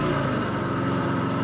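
A 1954 Harley-Davidson KH 750 motorcycle engine runs steadily and loudly up close, a continuous rumbling drone with no pauses or talk.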